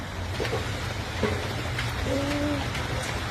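Steady rain falls outdoors, a dense, even hiss that fills the whole stretch, with a few brief bird-like tones above it.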